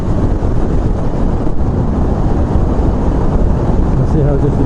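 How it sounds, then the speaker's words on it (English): Steady low roar of wind buffeting a helmet-mounted mic as a motorcycle rides through a tunnel, constant and loud with no pauses. "now we're going in the tunnel where there'll be no wind, just wind from our own speed"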